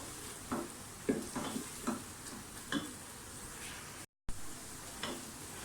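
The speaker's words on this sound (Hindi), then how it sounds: "तो प्याज को अच्छी तरह से फ्राई करें, थोड़ी सी गोल्डन ब्राउन होने दें प्याज को और लहसुन अदरक के पेस्ट को" Onions browning in a pan with garlic-ginger paste give a soft, steady sizzle broken by several light ticks and scrapes of a spoon stirring, fairly close, with no voices.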